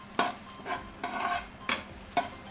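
Shrimp paste (alamang) is sautéed in a pan for pinakbet, a soft sizzle broken by about five short scraping strokes of a spoon stirring, close up and with no talking.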